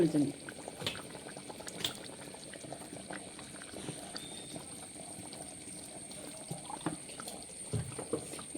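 Fish curry keeps bubbling in a hot clay pot after the flame is switched off, a steady low simmering crackle with occasional soft pops running through the clip.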